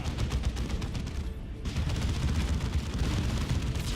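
Battle gunfire in the video game Warhammer 40,000: Dawn of War 2, with rapid bursts of shots and booming explosions layered into a loud, continuous barrage and a brief lull in the middle.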